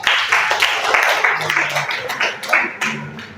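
Clapping from a small classroom group, uneven and close, with bursts of claps and some voices mixed in throughout.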